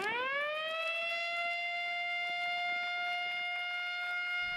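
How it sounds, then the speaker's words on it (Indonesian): A siren marking the opening of the Semarang-Demak toll road section 2 in Indonesia winds up from a low pitch to a loud, steady wail that holds without a break, sounding alone. "Bunyi sirene menandai peresmian tol Semarang-Demak seksi 2"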